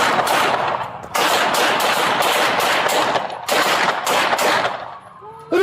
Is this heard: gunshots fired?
yes